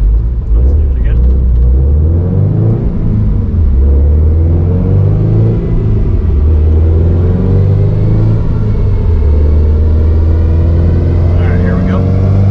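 A Ford Mustang on a chassis dyno, tuned toward 500 wheel horsepower, holds a loud, steady low engine drone with a gradually rising pitch through the run, close and continuous.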